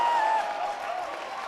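Spectators cheer and clap at an ultimate frisbee open final, a steady crowd roar with high whoops riding over it, fairly loud and continuous for the whole moment.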